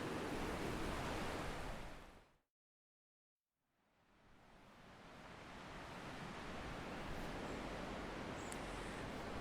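The river at Llangollen, Wales rushes steadily outdoors as a broad, dense, constant roar, briefly cut to silence, then fading back in and continuing at the same strong, even level.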